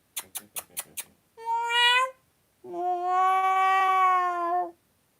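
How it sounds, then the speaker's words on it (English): A cat meows loudly and close by: a quick string of five short calls, then two long drawn-out meows, the last one sustained for nearly two seconds. "My cat's now meowing."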